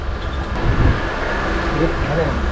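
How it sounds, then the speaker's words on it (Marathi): A steady, low rumbling roar of a train departing Madgaon, continuous and even throughout, with no clear voices over it. "आता मडगाववरून आपली ट्रेन निघालेली आहे"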